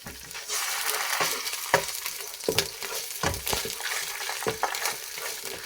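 Garlic paste sizzles steadily in a hot pan while being browned for a vegetable chicken spring roll filling. Sharp scrapes and stirring knocks break through the sizzle every second or so.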